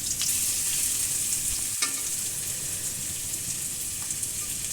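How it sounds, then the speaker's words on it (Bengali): Onions frying in hot oil in a wok for khichuri, a steady close sizzle with a brief stir or scrape partway through and no voices. "পেঁয়াজ ভালোভাবে ভেজে নিতে হবে।"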